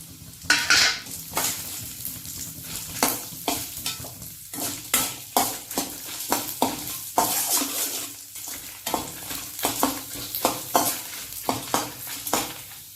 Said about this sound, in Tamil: அந்த பெருங்காயத்தோட நம்ம எடுத்து வச்சிருக்க உளுத்து பருப்பு, மிளகு, மிளகாய் இது எல்லாத்தையும் போட்டு ஒரு வறுத்துக்கலாம்